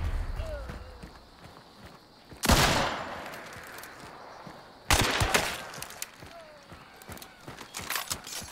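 Gunfire in the video game Hunt: Showdown comes as two loud, sharp shots several seconds apart, each trailing off in a long echo, with footsteps and scattered clatter between them and speech partly audible.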